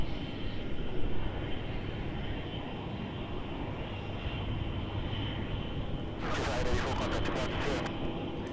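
A Jetstar passenger airplane at Melbourne Airport on flight 884 to Hervey Bay, a steady broadband engine roar held throughout at moderate distance, with a brief crackly burst near the end and voices talking underneath.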